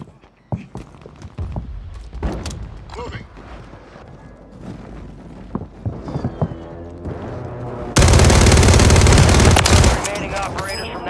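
Gunfire and a friendly airstrike in a video game: scattered sharp shots and bursts, then a dense loud roar of explosive impact near the end, with radio-style voices talking between.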